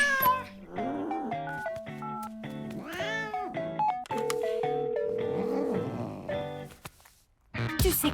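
Cartoon cat meowing in a French animated children's series, several drawn-out, sliding meows in a row, some strained and yowling, close and clear, ending in a brief burst of other sound.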